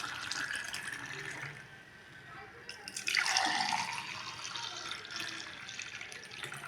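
Filtered vegetable juice pours into two glasses, a soft trickling and splashing stream that swells in the middle and continues at a quiet, steady level without talk.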